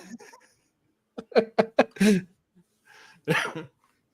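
A quick series of short, sharp coughs mixed with laughter, followed by a pause and another cough burst, close by.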